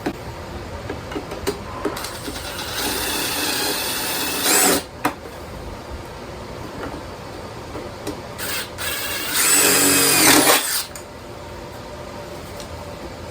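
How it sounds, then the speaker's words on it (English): Bursts of harsh, high-pitched mechanical whirring from a power drill biting into a steel service cart, two longer runs with brief pauses between, close by. "now we'll drill this one"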